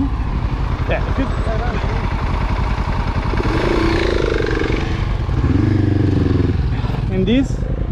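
A dirt motorcycle engine revs hard and steadily while riding through a sandy pit, the throttle held open with rising and falling pitch, as a person talks over it.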